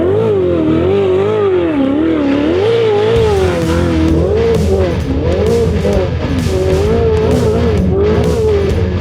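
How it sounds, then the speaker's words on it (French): A Ferrari V8 biturbo revs hard out in a field, loud and close, its pitch rising and falling in repeated sweeps while sharp turbo pops and crackles burst through the second half. "c'est beau, le bruit de turbo là qui pète et tout"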